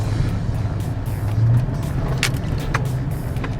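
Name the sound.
pickup truck driving over a speed bump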